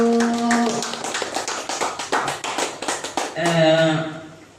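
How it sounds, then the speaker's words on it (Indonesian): Scattered hand clapping from a small audience at a teachers' dissemination session, individual claps distinct and rhythmic, with a voice talking over the start and end. "Sekali lagi tepuk tangan untuk Bu Wiwi."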